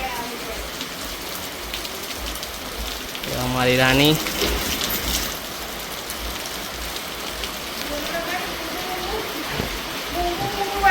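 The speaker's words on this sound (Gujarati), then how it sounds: "વરસાદ જો, વરસાદ બતાવું" Steady rain pours down outside a home, a continuous hiss of drops on surfaces close by, with a voice speaking briefly over it partway through.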